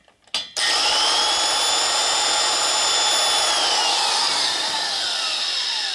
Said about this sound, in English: Stone's loading up, it's doing more polishing and cutting.